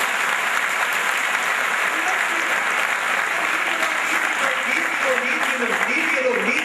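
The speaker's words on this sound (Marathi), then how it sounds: "टाळ्या वाजल्या" Audience applause from a crowd, a dense, continuous wash of clapping that stays loud and even from start to finish, with a few voices faintly mixed in.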